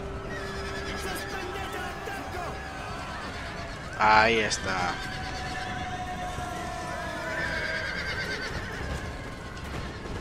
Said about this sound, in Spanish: Qué ataque de caballería.